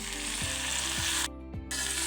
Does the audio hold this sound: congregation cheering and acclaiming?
no